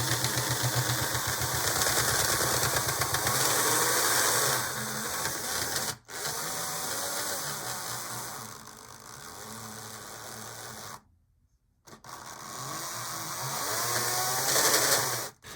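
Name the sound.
model train locomotive motor and gears running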